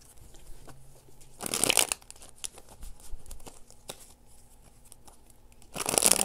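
Tarot cards shuffled in two brisk bursts, near and crisp, with quiet handling in between.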